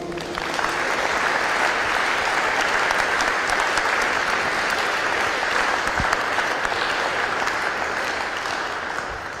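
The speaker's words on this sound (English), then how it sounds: "a huge round of applause please for the runner-up of the Tennis Scotland Open Tour Finals" Sustained, loud applause from an audience at the Tennis Scotland Open Tour Finals as the tournament runner-up is honoured, steady clapping throughout with no voices over it.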